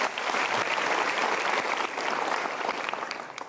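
A hall audience at a motivational talk claps steadily and fairly loudly through the whole short stretch, with no voices above it.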